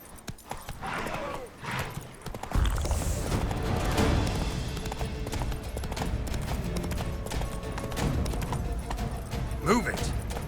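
Horse hooves galloping in The Witcher 3, a steady rapid clip-clop rhythm close by under continuous game ambience, with a brief whinny-like sound near the end.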